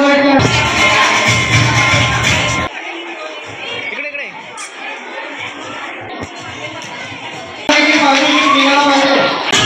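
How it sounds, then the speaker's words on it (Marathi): Students at a village Independence Day prize ceremony break into dense applause in two loud bursts, with crowd chatter and talking between them. "विद्यार्थ्यांनी टाळ्या वाजवायच्या"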